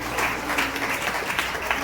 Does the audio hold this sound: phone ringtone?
no